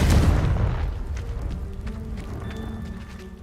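A Confringo blasting spell explodes in Hogwarts Legacy, giving a strong booming burst that rolls off into a fading rumble with scattered crackles.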